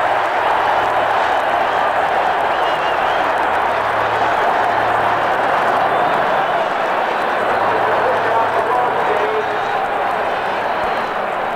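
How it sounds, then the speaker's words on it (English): A stadium crowd at a 1964 USC Trojans football game roars after a fumble recovery, a loud, continuous, unbroken wall of noise with voices mixed in. "Listen to this crowd."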